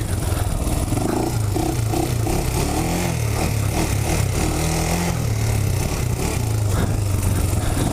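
A 2007 Honda 400ex ATV engine pulling through a wheelie, a loud continuous throaty drone with rising and falling pitch as the throttle shifts, close and steady throughout.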